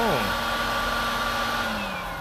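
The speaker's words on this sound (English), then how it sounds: "signature Honda vacuum sa Honda Odyssey" The built-in vacuum cleaner of a Honda Odyssey EX RES runs with a steady whirring motor hum and a whine that drops as it spins up, close and continuous, with someone talking briefly.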